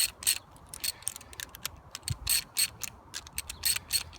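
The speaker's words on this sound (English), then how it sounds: "You just use the wrench to tighten it down." Wrench ratcheting as cable clamp nuts are tightened on a zipline install, a run of quick, faint clicking bursts in irregular spurts, close by with no talking.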